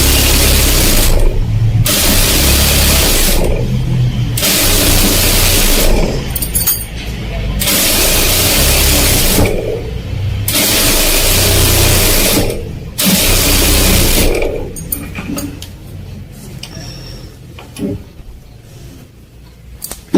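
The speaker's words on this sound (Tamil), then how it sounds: "இப்போ பார்த்தீங்கன்னாக்கா ஒரு ஒரு ஃபோல்டிங் இப்படி போட்டு ஸ்டிச் பண்ணணும்" A sewing machine stitches a fold on a blouse in quick, loud whirring bursts separated by short pauses, then gives way to quieter clicks and handling sounds at the end.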